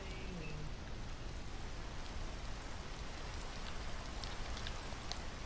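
Steady rain falls in the Minecraft video game, a soft continuous hiss of drops, faint and unbroken throughout.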